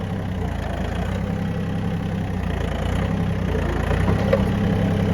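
A Japanese mini tractor ploughs stubble field, its engine chugging in a steady low rumble that swells slightly louder toward the end, heard close and without talk.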